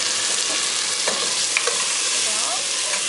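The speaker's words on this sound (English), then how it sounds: "Adjust the heat and fry it approximately 4 minutes." Tilapia with vegetables fries in a pan for a Bengali sabzi dish, giving a steady, loud, dense sizzle with a few faint scraping stirs, and no voices.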